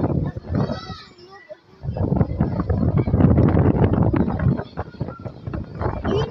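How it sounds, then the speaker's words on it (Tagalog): Strong gusty wind buffeting the microphone near a large house fire in a residential neighborhood, a loud continuous rumble under several people talking nearby. "Lakas nga ng hangin eh, kaya mahirapan magpula."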